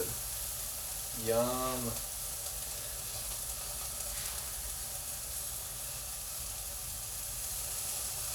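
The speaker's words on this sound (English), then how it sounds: "These mushrooms are cooking down really, really nicely." Mushrooms cooking down in a pan for a Mexican mushroom mole give off a steady, fairly loud sizzling hiss throughout, with one brief voiced exclamation near the start.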